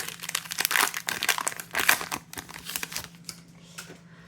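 Pokémon card booster pack foil wrappers crinkled and torn open, a close, busy run of crackling rustles and sharp tears with no talk, easing off toward the end.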